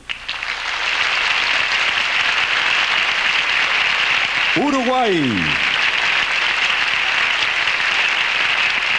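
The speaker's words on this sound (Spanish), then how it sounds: "nuestro cariño y nuestro aplauso para Perú" A beauty pageant crowd at Miss Sudamérica 1986 keeps up loud, sustained applause throughout, and midway a voice briefly announces over the clapping.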